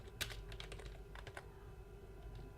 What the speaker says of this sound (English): you can type this command sudo